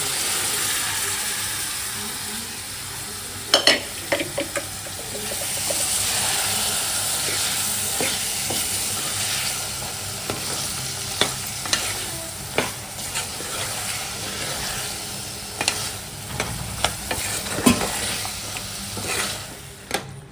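Chickpeas fry in a pan with ground spice paste, a continuous close sizzle that lasts throughout, with sharp clatters and scrapes as a spoon stirs and knocks the pan at irregular moments.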